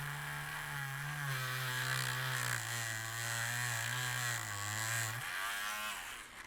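Wire wheel grinding rust off the metal of a flood-damaged K98 rifle, a continuous loud motor whine with a steady tone that dips slightly under load, close up, no talking.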